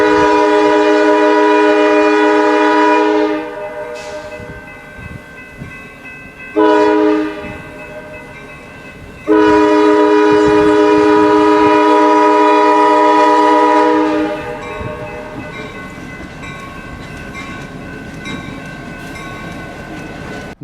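GP9 diesel locomotive horn blasting loud and near, sounding in long sustained chords with brief gaps, while the train rolls past with engine rumble and steady track noise.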